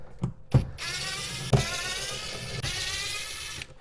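T10 Torx screws being backed out of a factory 6.5-inch speaker in a Jeep Liberty rear door, with a few sharp clicks and a whirring powered-driver run, close and alone.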